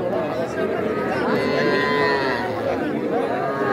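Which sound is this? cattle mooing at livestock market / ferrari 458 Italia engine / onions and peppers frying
cattle mooing at livestock market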